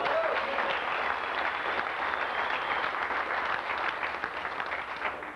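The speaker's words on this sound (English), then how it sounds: "So give him a round of applause" Steady, even applause from a crowd at a Syclone/Typhoon truck nationals gathering in Kansas City, many hands clapping continuously at a moderate, somewhat distant level for over five seconds.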